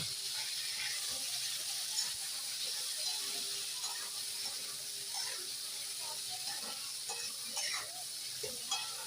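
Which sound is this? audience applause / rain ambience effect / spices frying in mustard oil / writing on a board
spices frying in mustard oil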